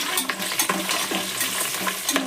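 Cumin and green chillies frying in ghee for khara pongal, a loud crackling sizzle broken by repeated scraping stirs of a spoon against the pan, with no one speaking.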